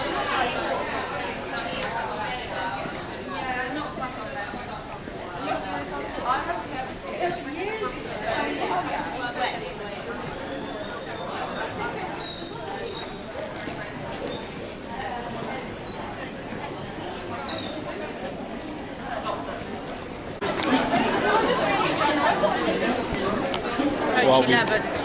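A busy London train station crowd murmurs in a steady babble of many overlapping voices with footsteps and small clatters, growing louder near the end.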